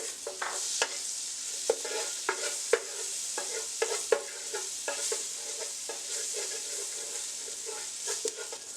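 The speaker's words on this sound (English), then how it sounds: "To my pot, I am adding a very small piece of butter. And I'm adding 2 cloves of garlic." Garlic cloves sizzling in a small piece of butter in a pot for shrimp mac and cheese: a steady, close frying hiss broken by light clicks and scrapes of stirring, with no voices.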